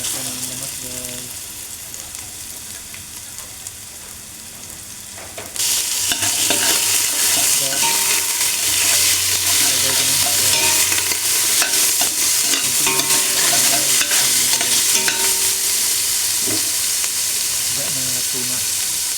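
Vegetables for monggo with fish sautéed in a hot pan, a quieter stretch followed by sudden loud continuous sizzling and frying with stirring scrapes, lasting steadily to the end.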